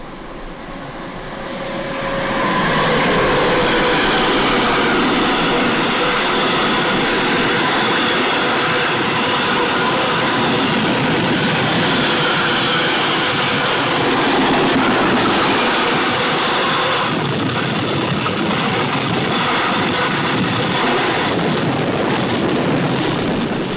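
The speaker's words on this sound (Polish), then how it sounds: "A z drugiej strony przelatuje pociąg w kierunku Rzepina i granicy państwa kontenerowiec" A container freight train roars past at length, a steady loud rumble of wheels and rattling cars with occasional clacks and squeals, in Poland.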